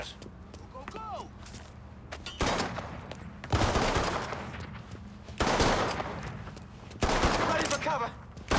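Gunfire in Mafia III comes in several loud bursts of rapid automatic shots separated by quieter gaps, with in-game voices shouting between the volleys and a few whistling ricochets.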